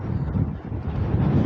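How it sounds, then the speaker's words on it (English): Strong wind buffets the microphone on an exposed mountain hiking trail in Fujairah, a steady low roaring rush with gusty swells throughout, close and loud, with no voices. "Wow, it's windy."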